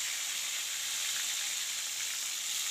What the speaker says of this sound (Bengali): তো আমি মাছটা তেলের মধ্যে দিয়ে নিচ্ছি এক এক করে